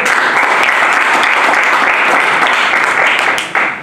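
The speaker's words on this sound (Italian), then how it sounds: "Complimenti, un applauso" A crowd applauds steadily and loudly for several seconds at a superbike race podium at Mugello, dense clapping that tapers slightly at the very end.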